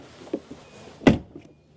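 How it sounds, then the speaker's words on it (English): A frameless rear door on a Porsche Taycan Turbo GT swings shut with one solid, close, damped thunk, preceded by a few faint handling clicks, then quiet. "let's also check out the rear door closing sound"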